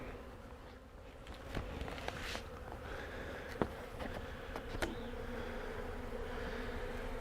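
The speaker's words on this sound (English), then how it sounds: "So here are the bees fanning." Honey bees fan at the entrance of a beehive during a honey harvest, a continuous close buzzing drone with individual bees passing by, flitting in and out of focus.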